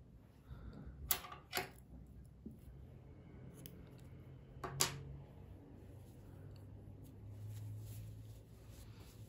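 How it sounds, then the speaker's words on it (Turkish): Scissors cutting knitting yarn while finishing a cardigan, a few quiet sharp snips close by against a faint room background. "İpliği kesiyorum."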